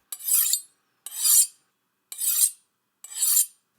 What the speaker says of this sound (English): Get a good rhythm going so you can hear that nice ping sound.